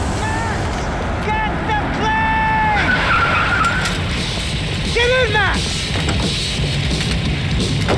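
In a prison break in the video game Max Payne 3, a car roars along and its tires squeal through several sharp, loud skids over constant engine noise and action sounds.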